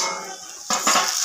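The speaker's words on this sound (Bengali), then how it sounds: "আমি ঢাকনাটা খুলে দিচ্ছি" Metal pot lid lifted off a cooking pot while katla fish curry simmers, a brief sharp metallic clink and rattle after a moment of quiet, close by.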